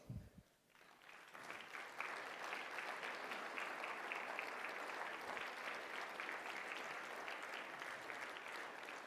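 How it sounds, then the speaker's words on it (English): Sustained applause from an audience, dense and even clapping that starts after a brief pause and continues steadily to the end. "Let's give them a round of applause."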